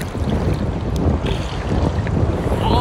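A big ocean wave breaks at a Hawaiian beach, producing a steady loud rushing wash of surf with wind buffeting the microphone and no talking.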